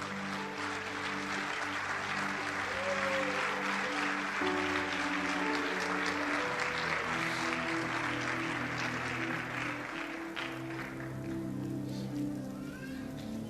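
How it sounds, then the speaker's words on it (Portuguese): A church congregation applauds during a Portuguese-language service, a moderately faint wash of steady clapping over sustained background music tones throughout. "Tome o seu assento aplaudindo Jesus"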